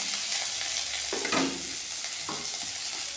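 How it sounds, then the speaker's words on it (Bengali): Fish frying lightly in a wok with a little oil, a steady soft sizzle running throughout, with a couple of brief clinks and scrapes of a utensil partway through. "এখন এই মাছগুলো ভেজে নেব"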